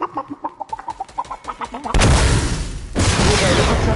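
Chickens clucking in rapid, rhythmic bursts in a Fortnite match, followed abruptly by loud, dense gunfire-like noise.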